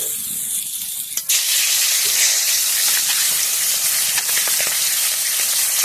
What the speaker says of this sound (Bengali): আজকে যা করবো মাছের তেল দিয়ে মাছ ভাজবো